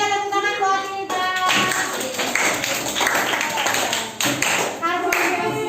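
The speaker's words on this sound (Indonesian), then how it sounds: "tepuk tangan buat kita" A school class claps hands together in a burst of quick, overlapping applause indoors, with a teacher's voice speaking over it at the start and end.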